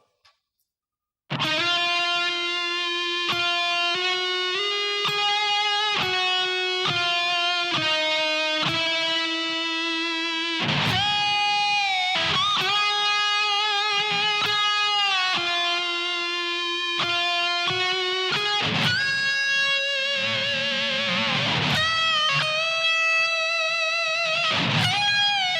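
Slow run-through of a guitar solo on a distorted electric guitar: sustained, bending lead notes played one after another, loud and alone, with no talk.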